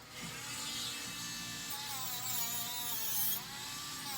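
A rotary tool polishes a sterling silver pendant at 600 grit with a faint, continuous high-pitched buzzing whine whose pitch wavers slightly as pressure changes.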